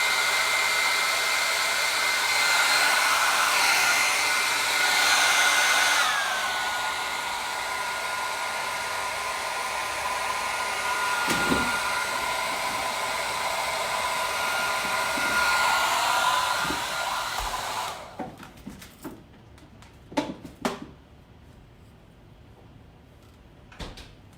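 A blow dryer runs on hair with a loud, steady whirring roar that shifts in pitch as it is moved, then cuts off and gives way to a few knocks and clattering handling sounds nearby.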